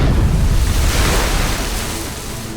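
A long, boxy craft breaks the ocean surface, giving a loud, steady rush of churning, splashing water and bubbles close by that eases slightly toward the end.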